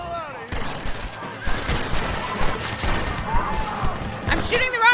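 Bursts of video game gunfire crackle and pop over several seconds amid explosions and chaotic game noise, with players talking over the action.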